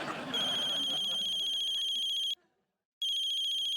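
A phone ringtone in a Hindi TV comedy scene rings loudly and steadily, cuts off briefly, then resumes; a voice talks faintly at the start.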